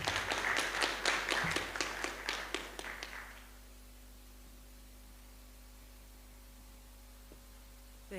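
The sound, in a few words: audience applause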